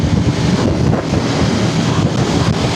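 Heavy wind buffeting the microphone while riding a BMW F450GS motorcycle, a steady loud rumbling roar with constant gusty turbulence and no speech.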